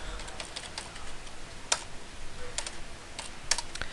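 Typing on a computer keyboard while drafting in CAD software: light irregular key clicks close to the mic, with a few sharper, louder strikes spaced through the run, no talk.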